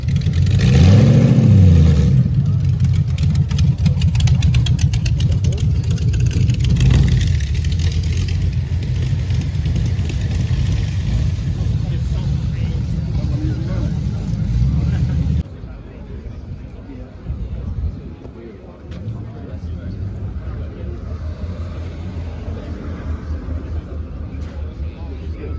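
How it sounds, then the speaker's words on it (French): A loud Aston Martin Valhalla engine revs up and rumbles past close by for about fifteen seconds, then drops away to quieter street noise while people talk. "Aston Martin Valhalla."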